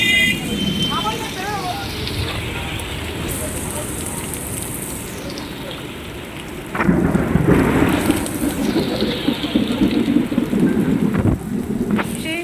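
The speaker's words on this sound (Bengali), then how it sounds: "শান্তি ফাইনালি মোটামুটি ভালো বৃষ্টি হচ্ছে" Heavy rain pours down in Kolkata amid a thunderstorm, a loud, steady roar of rainfall with rumbling thunder that swells louder partway through, and a voice briefly heard under the downpour.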